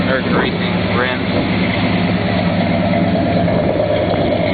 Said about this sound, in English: Chrome exhaust, nice throaty exhaust sound.